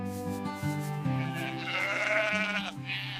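Sheep in an enclosure bleat close by, several harmonic calls following one another in a short wavering run, loud and clear with no talking.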